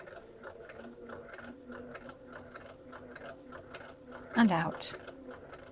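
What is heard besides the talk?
sewing machine stitching fabric in a straight line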